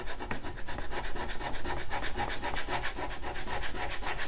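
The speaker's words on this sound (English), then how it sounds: "Let's start to maybe scrape some of this paint off." A spatula scrapes paint off a wooden dresser in quick, rhythmic rasping strokes, close and steady throughout with no voices.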